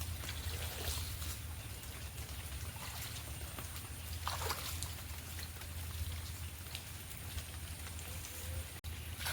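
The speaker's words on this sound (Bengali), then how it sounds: "এই যে আবার পুকুর থেকে জল বেরোচ্ছে।" Water from a farm pond pours out through a drain in a continuous broadband rush, steady and moderately distant, with no voices.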